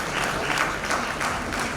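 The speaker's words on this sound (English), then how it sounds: "A big round of applause for 𝐿𝙬𝙧𝙗 sir." Applause from a conference audience, a short burst of steady, dense clapping at close range with no talking over it.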